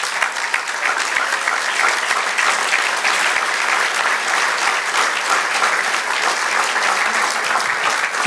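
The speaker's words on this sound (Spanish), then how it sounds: "Denle un aplauso al Señor." Sustained applause from a congregation during a Spanish-language church service, steady dense clapping that fills the whole stretch at an even loudness with no voices standing out.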